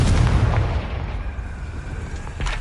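The Confringo explosive spell in the Hogwarts Legacy video game bursts with a loud, deep boom, followed by a rumbling decay and a smaller second blast near the end.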